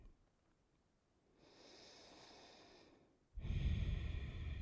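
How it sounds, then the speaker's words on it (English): Someone in a gentle standing yoga session breathes out and in through the nose, with a soft, airy exhale followed by a louder, rushing inhale, heard alone and close. "Breathing out and in from the nose if possible."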